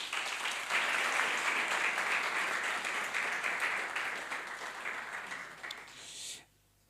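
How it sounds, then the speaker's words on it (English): A room of listeners applauds winners at an environmental and climate justice moot court awards ceremony, a dense wash of clapping that holds steady for about six seconds, thins slightly, then cuts off abruptly. "A round of applause for them, please"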